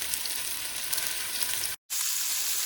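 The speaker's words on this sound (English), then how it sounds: "Add all the meatballs into the frying pan and begin frying." Steady, loud sizzling of meatballs frying in hot oil in a frying pan, continuous crackle with a very brief dropout near the end.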